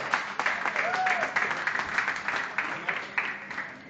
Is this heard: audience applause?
yes